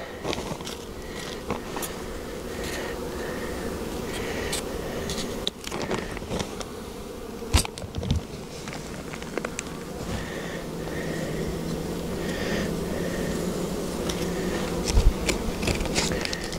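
Honey bees buzz steadily around beehives outdoors, a continuous insect drone with occasional close fly-bys and brief knocks, no talking.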